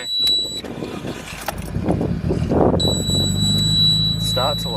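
A Nissan Skyline with a boost leak just fixed pulls away on a test drive, its engine rumbling steadily and building from about mid-clip, close by, with people talking over it.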